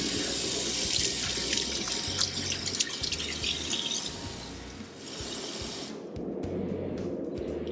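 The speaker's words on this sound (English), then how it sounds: "Rinse each water dish and add clean water." A cat's water dish rinsed under a running tap during cage cleaning, a loud continuous rush of water splashing into the bowl with clinks, the flow thinning and breaking into drips and splatter near the end.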